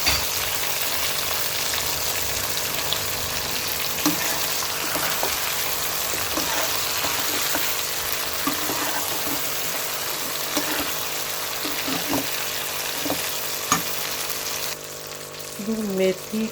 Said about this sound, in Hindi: इसको अच्छे से मिक्स करेंगे और इसमें हम सारा अचार जो है वो डाल देंगे